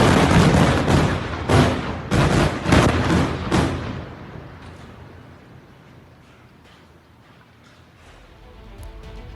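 An Israeli missile strike on a Hezbollah headquarters in southern Lebanon: a cluster of loud, heavy blasts and booms in the first four seconds, then a lingering low rumble that fades and swells slightly near the end.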